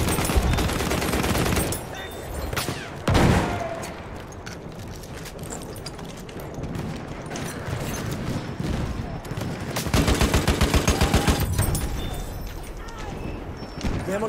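Rapid automatic gunfire in the Battlefield video game on the Amiens map, bursts of fast cracking shots repeating at close range over continuous battle noise, with a player talking at times.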